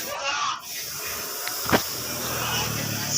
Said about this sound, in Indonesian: Ini kita semproti saja semuanya warna yang bucal-bucal ini.